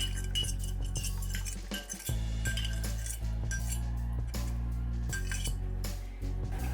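A utensil stirs curry slurry in a cooking pot, giving repeated metallic clinks and scrapes against the pot in an uneven rhythm.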